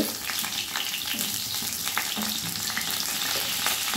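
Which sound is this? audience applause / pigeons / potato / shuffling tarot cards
potato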